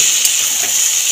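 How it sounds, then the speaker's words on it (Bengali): Flat beans and whole green chillies stir-frying in a pan with salt, giving a steady, loud, close hiss of sizzling oil with faint stirring, and no talk over it. "সিমটা দিয়ে নেড়ে চেড়ে দিয়েছি নুন দিয়ে তার সাথে। এবার গোটা কাঁচা লঙ্কাও ছেড়ে দিয়েছি।"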